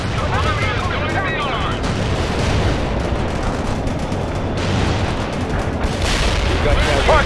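Artillery fire support strike in the real-time strategy game World in Conflict, a loud dense barrage of booms and gunfire rumbling continuously with scattered sharper blasts.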